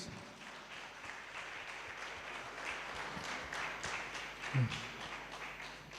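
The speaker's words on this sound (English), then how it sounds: "A round of applause." Applause rises at a conference on organ transplantation in Tanzania, a broad wash of many hands clapping at moderate distance, steady for several seconds with one louder knock near the end.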